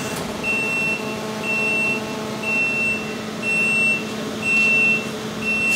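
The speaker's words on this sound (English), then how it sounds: "Timer's done." A commercial oven timer in a school cafeteria kitchen beeps when done, a series of evenly spaced, sharp electronic beeps about once a second, sounding over a steady loud mechanical hum from the equipment.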